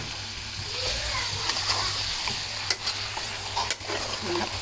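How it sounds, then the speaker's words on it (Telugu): Mutton liver curry is stirred in a sizzling pan, a spoon scraping and sloshing through the wet mixture over a steady frying hiss, close and continuous with a couple of sharper clinks. "దీన్ని మొత్తం ఇలా కలుపుకోవాలి"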